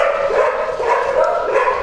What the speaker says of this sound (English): The dogs are here.